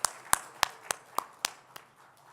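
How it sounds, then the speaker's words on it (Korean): A church congregation claps in a slow, steady rhythm of about eight distinct claps, fairly faint and spaced evenly, with no talk over them. "다시 한번 더 뜨거운 박수로 우리 찬양과 경배와 기도를 받으신 하나님께 영광의 박수 올려드릴까요?"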